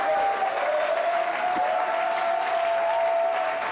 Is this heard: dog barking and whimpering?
no